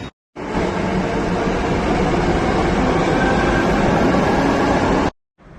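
A yellow line metro train pulls into the station with a loud, steady rumble and rush of wheels and air that holds evenly for about five seconds before cutting off abruptly.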